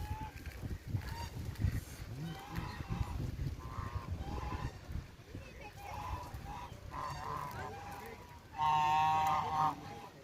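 Honking duck calls repeat through the clip over background voices and murmur, growing louder and more insistent near the end.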